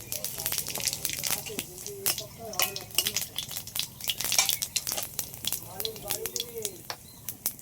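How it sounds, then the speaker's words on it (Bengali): Dried red chilli and cumin seeds frying in hot oil give a steady close sizzle with scraping stirs, while a voice talks over the cooking throughout. "তেলের পরে একটা শুকনো লঙ্কা কেটে দিয়ে দিচ্ছি, জিরে"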